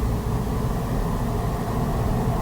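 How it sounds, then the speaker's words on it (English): Suzuki Swift Sport on the move, a steady low exhaust drone blended with road and wind rumble, continuous and fairly loud throughout from inside the car. "The noise from the exhaust"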